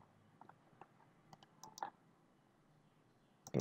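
A computer mouse clicks in a scattering of soft, separate taps during work in a building-plan 3D program, ending with a louder burst of noise.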